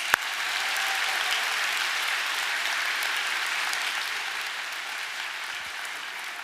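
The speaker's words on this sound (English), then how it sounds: "Big round of applause for judges." A large crowd gives sustained applause for judges at the opening ceremony of a youth science and technology exhibition, a steady wash of many hands clapping at even loudness, with no speech.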